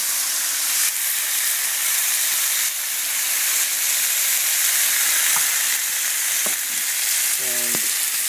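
Chopped tomatoes go into a hot pan of onions and olives: a loud, dense, continuous sizzle and hiss throughout, with a few faint utensil clinks near the end.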